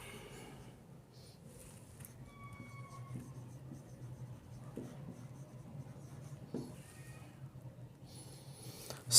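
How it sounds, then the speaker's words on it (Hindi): Handwriting a maths question, pen scratching and tapping softly and close, with faint siren-like traffic tones in the background. "क्वेश्चन पहले लिख लेता हूँ।"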